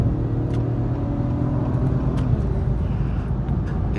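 An Acura TLX Type-S car accelerates on throttle with a steady, loud engine drone and road roar heard from inside the cabin, the pitch climbing gradually with no break.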